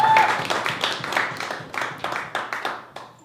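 An open mic story night audience applauding, first as a full burst, then thinning into scattered individual claps that keep fading and restarting at a moderate distance.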